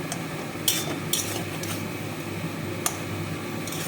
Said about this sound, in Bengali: পোস্তটা দিলাম, এবার নেড়ে চেড়ে একটু শুকনো শুকনো করবো।